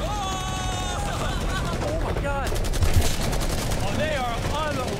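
Rapid bursts of gunfire rip into a cinder block fortress, a steady, dense rattle of shots heard under music with whistling tones and voices.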